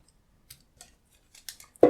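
Small wire cutters snip excess wire from a handmade wire-wrapped gemstone pendant, a few light clicks building to one sharp, close cut at the end.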